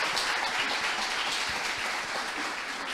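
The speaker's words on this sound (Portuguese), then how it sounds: "uma salva de palmas para a Marcela" An audience applauds Marcela Godoy at a community event, a steady, dense wash of clapping that holds at an even level from start to finish with no voices over it.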